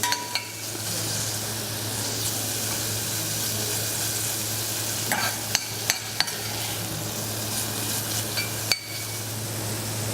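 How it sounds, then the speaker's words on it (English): Vegetables warm gently in butter in a pan at minimum heat, giving a steady soft sizzle with a few light clinks of a utensil against the pan. "Just let that warm through in that butter."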